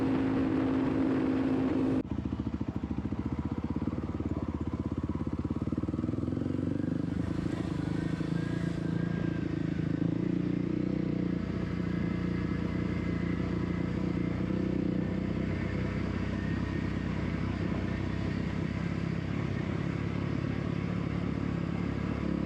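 Dual-sport motorcycle cruising at 60 mph on an Oregon road, a continuous droning engine note mixed with heavy wind rush, steady and loud throughout with no clear speech.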